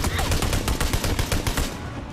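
PUBG gunfire in a rapid, loud burst of repeated shots, dense and close, that stops abruptly near the end.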